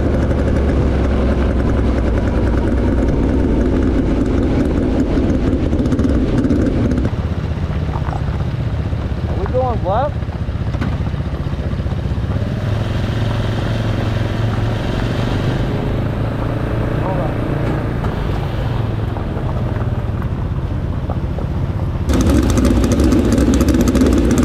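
USAC Silver Crown race cars with front-mounted starters roll off together for the main event, a loud, steady roar of several engines droning near and continuously, briefly swelling louder toward the end.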